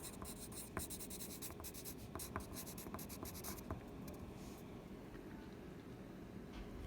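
A pen or pencil writes on paper in quick scratchy strokes during a geometry lesson, close and quiet, with the scratching fading out toward the end.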